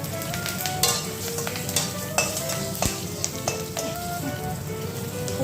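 Bay leaf, dried red chilli, panch phoron and green chillies tempering in hot oil, a steady close sizzle with sharp crackles and pops and stirring scrapes, no talk.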